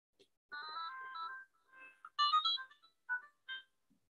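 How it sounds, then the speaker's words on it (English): A BBC micro:bit with a LAB:bit board plays The Entertainer when its button is pressed, giving a faint, thin electronic melody of short beeping notes with small pauses between them. "Hopefully you can hear the entertainer there when I press the button."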